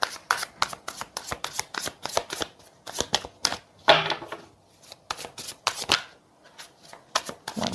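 Tarot cards are shuffled by hand in quick bursts of crisp riffling and slapping, close and fairly quiet, with short pauses between rounds.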